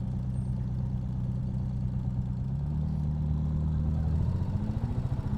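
Royal Enfield-style Classic 350 single-cylinder motorcycle idling at traffic lights in Beaconsfield, then pulling away gently, a steady low thump rising into a throbbing pulse as it moves off, close and continuous with no talk.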